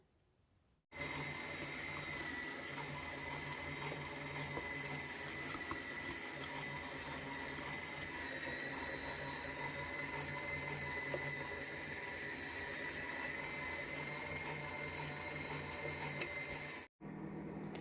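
A meat grinder runs continuously, grinding mushrooms and onion for a mushroom pâté, giving a steady, dense mechanical whir and churn that starts abruptly, holds for about sixteen seconds and cuts off, with no talking.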